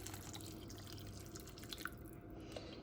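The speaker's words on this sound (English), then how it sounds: "and now we're going to add some stock." Stock being poured into a pan of chopped tomatoes gives a soft, faint trickle and a few drips, quiet and close, with no voices.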